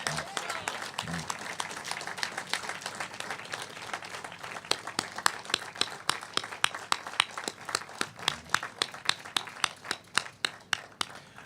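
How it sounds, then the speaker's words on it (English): An audience at a memorial plaque dedication ceremony gives a round of applause, many hands clapping in a sustained patter that thins into scattered, distinct claps toward the end, heard from some distance. "take a moment for a big round of applause for John Harrod and the contribution that he made"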